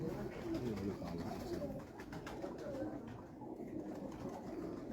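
Pigeons coo in their pen, a steady chorus of low, throaty calls heard close by and overlapping one another throughout.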